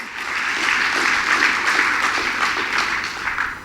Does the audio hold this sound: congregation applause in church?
yes